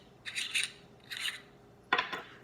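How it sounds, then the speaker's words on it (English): Three short bursts of metallic rubbing and rasping as the threaded pommel cap of a saber hilt is turned loose by hand, close up and fairly quiet, separated by brief pauses. "So what you want to do, just unscrew the pummel cap"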